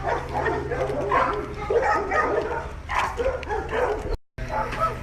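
Several dogs bark and yip continuously in an animal shelter's kennels, a busy, echoing space, with whimpers mixed in and some voices underneath.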